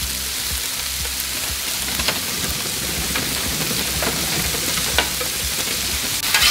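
Potatoes frying on a 28-inch griddle top as a constant close crackling sizzle, with occasional light scrapes and ticks of a spatula, no talking over it.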